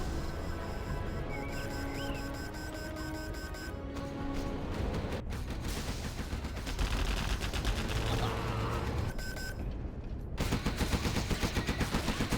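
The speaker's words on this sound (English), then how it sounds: "Laser turret on the left." Laser turret in a real-time strategy match firing in rapid repeated bursts, a dense crackling barrage with other battle effects layered throughout.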